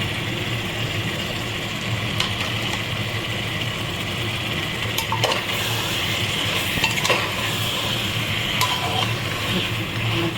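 Chicken pieces and tomatoes sautéing in oil in a pan, a loud continuous sizzle with scattered clinks and scrapes of stirring, no talking.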